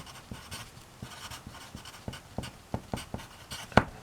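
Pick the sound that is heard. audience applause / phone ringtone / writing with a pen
writing with a pen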